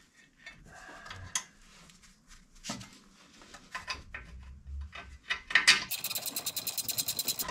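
Mechanical clicks, clanks and a rapid, close ratchet come from fitting a brake caliper over the rotor on a Geo Tracker front brake job and starting its 17 mm bolts, with a quick run of clicks at the end.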